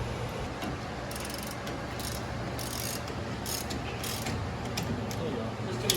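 A wrench ratchets a nut onto a wheel of a VW Bus under restoration, giving a continuous fast clicking that stays even and close throughout, with faint voices in the background.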